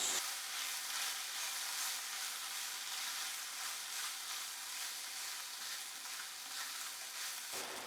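Ground beef filling with chili garlic sauce and flour sizzles and crackles steadily in a hot frying pan, a continuous close, even frying hiss with no talking.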